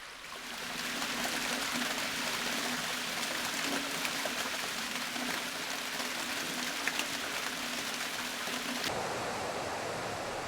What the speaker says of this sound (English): Ice melt flows over the top of the glaciers.